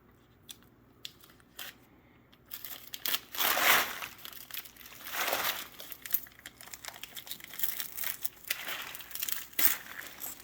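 Sticky tape is handled and crinkled during an epoxy resin pour on a maple slab, producing irregular crackling and crumpling bursts. The noises are close and fairly quiet, with sharper rustles near the middle and no talk.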